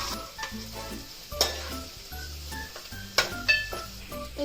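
Mustard seeds and cumin fry in hot oil for an okra curry, giving a soft continuous sizzle with scattered pops and crackles and a few louder clinks of a spoon stirring against the pan.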